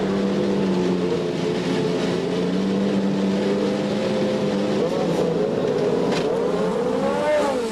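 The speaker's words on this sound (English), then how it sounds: "As the engines roared to life for the inaugural US 500" Race car engines roar at the inaugural US 500 in Michigan, a loud continuous droning blend of motors with rising and falling pitch as cars pass, no talk heard.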